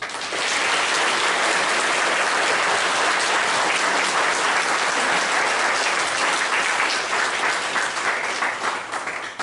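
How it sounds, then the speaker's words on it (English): A crowd at a county Republican party meeting applauds candidates with sustained, loud, dense clapping that holds steady for several seconds before starting to thin out at the end. "Can we give our candidates a big round of applause?"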